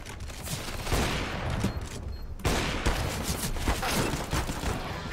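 Rapid volleys of gunfire in a competitive shooter video game, including shots from a Glock pistol, crackle loud and dense throughout, with one brief lull midway before the bursts resume.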